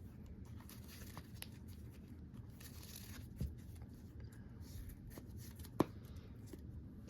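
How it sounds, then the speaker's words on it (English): A deck of trading cards being shuffled close by, a steady soft papery riffle and patter running throughout, with a couple of sharper snaps near the middle and end. "So I'm just going to shuffle the deck real quick, as you see."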